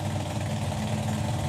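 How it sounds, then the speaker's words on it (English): A drag racing altered car at a European drag racing finals event, fitted with an engine taken from a Corvette, runs with a steady, low, rumbling drone at moderate distance, briefly and without talk. "Phil's got the engine that was previously in the Corvette in this car"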